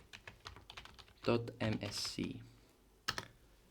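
Computer keyboard typing in quick, close clicks and taps, with a short burst of keystrokes, alongside a voice talking.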